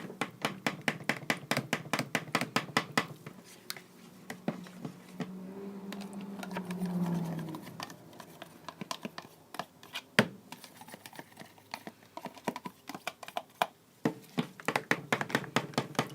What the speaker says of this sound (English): Use my spoon to stir it in.